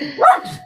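A dog gives a single short bark, fairly close and loud, heard alone in an indoor setting.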